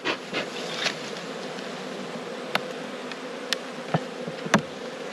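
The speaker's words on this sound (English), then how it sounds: "So plenty of bees in here." Honey bees buzz steadily in a dense swarm around an open hive during a robbing event, a continuous close drone with a few sharper passes of individual bees flying near.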